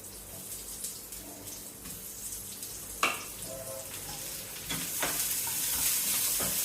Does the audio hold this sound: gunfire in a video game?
no